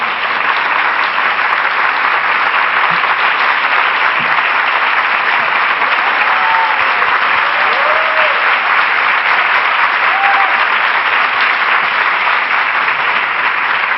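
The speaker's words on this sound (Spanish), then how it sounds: "vamos a aplaudirla fuertemente" A lecture audience at an inaugural conference claps loudly and continuously, a dense, even wall of applause sustained from start to finish with faint voices beneath.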